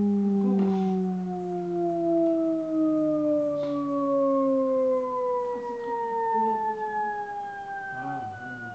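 A long cartoon falling whistle, like a coyote plunging off a cliff, slides steadily downward in pitch for about eight seconds, loud and close, with a few faint rustles beneath and no talking.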